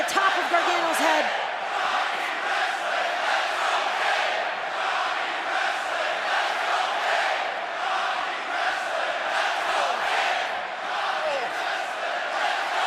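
A wrestling arena crowd roars steadily at an NXT TakeOver event in Portland, loud mixed cheering and chanting that sustains without a break, with a commentator talking over it.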